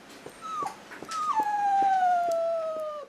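A sick dog, unresponsive for days, gives a long high whimpering whine that slides slowly downward, preceded by shorter plaintive cries, close and fairly loud.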